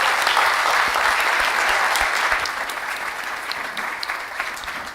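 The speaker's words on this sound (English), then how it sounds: "let's warm applause to our panel for this inaugural discussion" Warm applause from an audience for a panel at a Chile–Sweden welcome ceremony forum, a dense sustained clapping that starts strong and gradually tapers, heard alone without speech.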